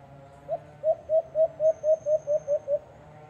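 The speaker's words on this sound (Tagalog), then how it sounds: "humuhuni siya ng mahina para palapitin yung mga alpas" A white-eared brown dove decoy coos softly during a dove hunt, giving about ten evenly spaced, rounded coos in a steady rhythm. The sound is close and clear against a quiet outdoor background.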